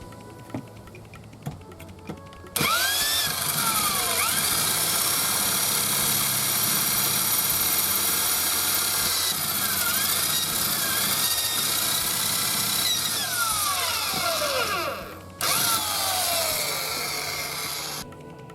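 A power drill with a 4.2 mm bit bores holes in metal for a skateboard curb, a loud continuous high whine after a few light clicks, with brief pitch dips as it bites and a short pause near the end before resuming.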